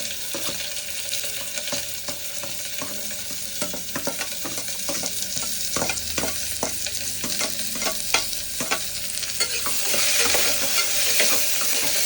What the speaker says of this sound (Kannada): ಇವಾಗ ನಾನು ಕರಿಬೇವು ಮತ್ತು ಒಣಮೆಣಸಿನ್ಕಾಯಿ ಹಾಕ್ಕೊಳ್ತಿದ್ದೀನಿ ಅದ್ರ ಜೊತೆ ಈರುಳ್ಳಿ ಕೂಡ ಹಾಕೊಳ್ತೀನಿ